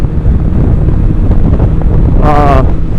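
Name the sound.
strong wind blowing hard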